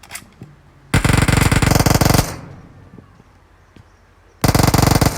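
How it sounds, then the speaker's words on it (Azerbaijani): Two loud bursts of rapid automatic AKM rifle fire in the PUBG video game, one longer burst near the start and another at the end, with a quieter stretch of faint ambient noise between them. "AKM götürək"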